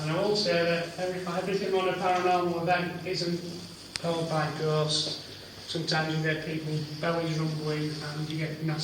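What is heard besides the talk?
No everyday noises stand out.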